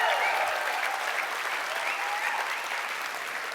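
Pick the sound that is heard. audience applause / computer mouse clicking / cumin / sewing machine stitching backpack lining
audience applause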